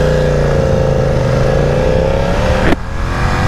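A 2020 BMW F900R motorcycle engine revs steadily upward toward redline, its loud, close pitch climbing, then cutting off abruptly near the end into a lower idle rumble.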